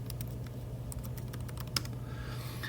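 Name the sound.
typing on a Chromebook keyboard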